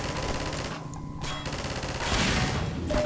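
Turret gunfire in Half-Life 2, a dense rattling stream of automatic shots that dips briefly and then swells louder, with crashes mixed in.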